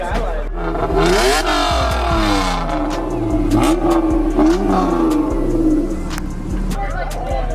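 A supercharged car with a stage 3 clutch and solid motor mounts revs hard several times, loud and close, the engine note rising and falling in repeated surges.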